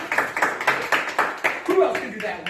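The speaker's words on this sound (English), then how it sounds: "Let's clap." Children clapping in a group activity setting, a run of sharp, evenly spaced claps at a moderate pace, fairly close, with voices in the background.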